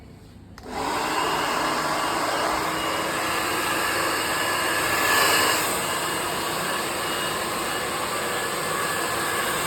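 A straightening blow dryer switches on after a brief quiet moment and then runs on hair as a steady, close, loud airy roar, with a slight swell near the middle.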